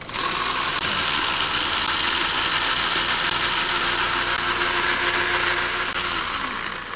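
Food processor whizzing mint salsa in a kitchen: a steady, loud motor whir and chop that runs unbroken for several seconds, with no talk.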